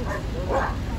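A dog at a dog show in Salem gives a short, close bark or yip, with crowd noise in the background.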